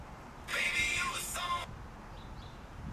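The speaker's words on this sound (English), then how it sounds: "Okay, that was my phone playing." Music from a phone blasts through the speakers of a Harley Davidson Fat Bob 114 motorcycle at the loudest setting, a loud burst of about a second, then faint outdoor background.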